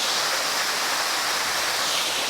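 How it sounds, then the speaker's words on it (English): Two waterfalls at Somersby Falls running heavy after floods: a steady, loud, close wash of rushing water with no pauses, filling the whole moment. "We've got 2 waterfalls happening"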